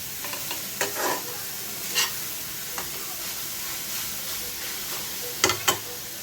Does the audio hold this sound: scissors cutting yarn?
no